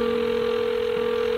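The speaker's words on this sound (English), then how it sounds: "Come on, pick up the phone, Charlie." A telephone ring tone sounds over the line during a call as someone waits for an answer, a steady, loud electronic tone held without a break.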